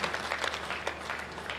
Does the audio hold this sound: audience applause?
yes